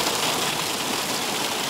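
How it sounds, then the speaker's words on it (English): Hail pelts down in a severe hailstorm on a volcano near the equator, a dense, continuous hiss of many pellets striking surfaces, loud and close with no voices. "We're on a volcano in a severe hailstorm."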